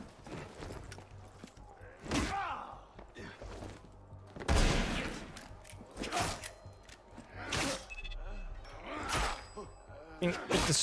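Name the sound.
gunfire from enemies with guns, from a video game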